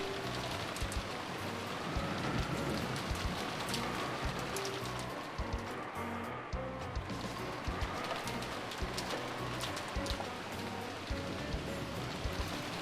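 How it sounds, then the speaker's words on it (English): Steady rain pours down in a scene from the Umineko visual novel game, a dense continuous patter of drops on surfaces with faint tapping accents, no voices over it. "Oh yes, the lovely, delicious rain!"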